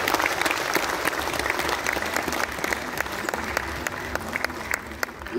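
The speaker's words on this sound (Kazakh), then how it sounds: "қошеметтеп ду қол шапалақтап." Audience applause at a festival award ceremony, a dense sustained burst of many hands clapping, full and fairly loud, with faint crowd murmur underneath.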